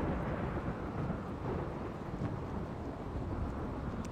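Steady rain with low rumbling thunder in the colony-building game RimWorld, a continuous broad wash of storm noise that stays even throughout with no talking.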